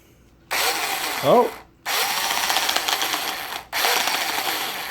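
An old Makita cordless drill motor whirs loudly in three bursts with brief stops between, a harsh rattling buzz from inside, and a short squeaky whine near the start.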